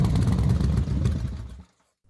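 A motorcycle engine runs with a rough, rumbling clatter on a foggy evening road, sags, then cuts out abruptly into silence after about a second and a half.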